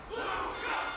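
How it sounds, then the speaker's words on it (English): A large video-game crowd roars and cheers continuously, a dense wash of many voices shouting together at a steady, loud level. "Can't you hear? Everyone's cheering for you, Luca."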